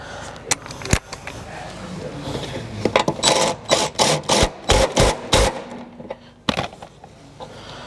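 A ratchet with a 14 mm socket turning a seat belt bolt in a 2012 Subaru Outback, heard as a close run of sharp, regular clicking bursts, with a few louder knocks before and after.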